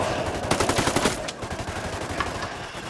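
Gunfire in the tactical shooter Ghost Recon Wildlands: loud, rapid automatic bursts that come close together and then ease into scattered, quieter shots, with no talk over them.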